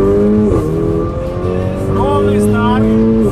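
A tuned Audi A6 BiTDI and a BMW 530d G30, both 470 hp, accelerate hard side by side from a race start, with loud, steadily rising engine drone and gear shifts heard from inside, and someone talking over it.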